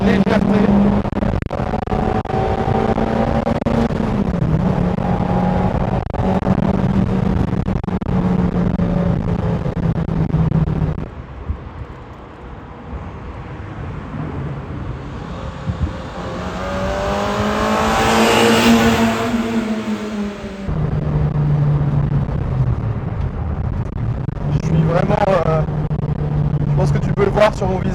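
A Peugeot 205 driving along a road, engine droning loudly from inside the cabin as it climbs and falls through gear changes, with one quieter stretch and a rising rev sweep.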